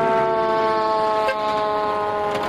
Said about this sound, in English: Fire trucks sped into the neighborhood, sirens blaring.